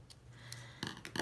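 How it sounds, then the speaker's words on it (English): Scissors snip through a scalloped linen ribbon in terracotta tile colour during papercraft work, a few short, quiet crisp cuts close by with a low hum underneath. "this scalloped linen ribbon that is in terracotta tile, and I'm just going to cut that off"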